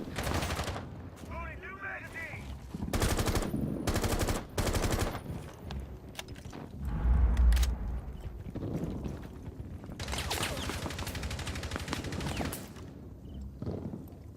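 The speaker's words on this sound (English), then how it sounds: "Gets the headshot on Smiles." Rainbow Six Siege gunfire in a competitive match, coming in separate loud bursts of rapid shots with quieter gaps between them and a heavy thump near the middle.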